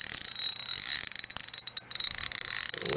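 A socket wrench ratchet spun around on its socket in a shop, giving rapid, close metallic clicking in fast bursts with a short pause in the middle, then resuming.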